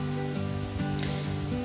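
Garlic cloves sizzle steadily in hot olive oil in a preheated pan, a soft continuous crackle with no talking.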